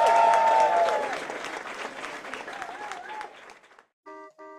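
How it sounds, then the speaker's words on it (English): Audience applause at an evening event with Grant and Gerard, loud dense clapping that fades over a few seconds, with brief tonal beeps near the end. "Once again, a round of applause for these guys."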